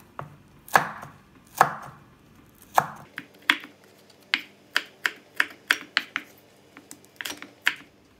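Green chili peppers sliced diagonally with a knife on a cutting board, about a dozen sharp, crisp chops in an uneven rhythm, close and clear with no talking.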